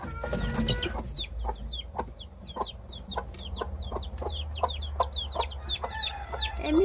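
Several chickens cluck in quick, repeated bursts, with short sharp calls scattered over a low background rumble.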